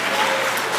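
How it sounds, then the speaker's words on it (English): A burst of steady applause from a crowd at a Brooklyn graduation ceremony, dense clapping filling the whole short moment. "Let's give her a big round of applause."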